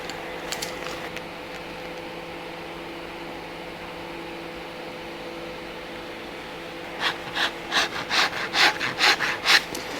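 Abrasive is drawn along the edge of a leather shoe sole in a quick series of about half a dozen close, rasping strokes near the end, after a stretch of faint steady background noise.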